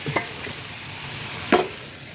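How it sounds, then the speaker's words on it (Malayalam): Cooked cowpeas are stirred into a stir-fry in a pan, giving two soft, brief scraping strokes over a faint, quiet background. "ഇനി നമുക്കിപ്പോൾ തന്നെ ഇടാം പയർ."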